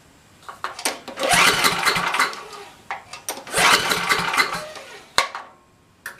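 A Tecumseh 10 HP engine cranks without choke in two long bursts of rapid, ragged chugging that fail to catch, separated and followed by short clunks and pauses.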